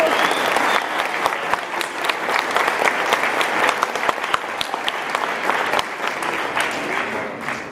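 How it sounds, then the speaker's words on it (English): A high school senior night audience bursts into loud, continuous applause for honor graduates, with dense clapping from a large crowd and occasional sharper individual claps. "I know that was tough to hold that applause, go ahead and let it out one more time for those honor graduates"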